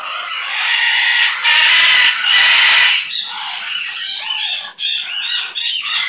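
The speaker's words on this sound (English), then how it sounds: "Hurrah for that Billy bird" A pet bird calls steadily and loudly up close, a run of bright chirps and squawks that keeps going for several seconds, with no one talking.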